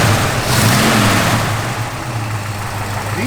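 A 1964 Ford Falcon Sprint's engine fires up and runs loud and close, a dense low rumble with a brief rev near the start before settling into a steady idle.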